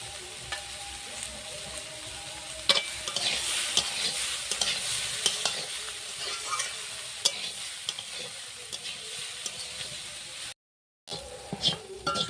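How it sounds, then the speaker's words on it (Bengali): Mixed vegetables with capsicum are stir-fried in a hot pan, giving a continuous sizzle under repeated scraping and clattering stirs, close and fairly loud, with one short silent break near the end. "এই সবজিগুলো সুন্দর করে ভেজে নিয়েছি। এবার দিয়ে দেবো ক্যাপসিকাম।"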